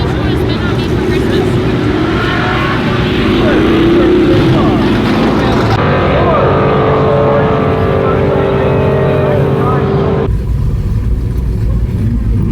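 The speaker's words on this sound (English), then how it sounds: "I'm gonna be racing Remy in the McLaren, so wish me luck" A Lamborghini Huracan races against a McLaren as loud engines roar close by, the pitch climbing through gear changes. A voice talks over the engines.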